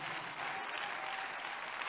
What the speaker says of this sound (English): It's a good place to clap for Jesus.